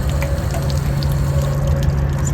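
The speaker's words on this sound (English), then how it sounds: "And here's Mary washing out the inside of the water tank." Water spraying and rushing while an RV's Suburban water heater tank on a Forest River Cardinal is flushed out, a steady close hiss with a low pump-like hum underneath, no talking.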